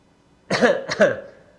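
A single close cough in two sharp bursts, loud and clear against near silence.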